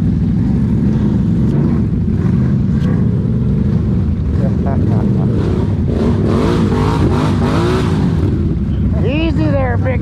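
A Can-Am off-road vehicle's engine roars and revs hard as its wheels spin out, a loud continuous drone rising and falling in pitch, with voices shouting over it.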